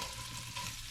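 Bacon frying slowly in a pan with butter, a continuous close sizzle and crackle with no pauses.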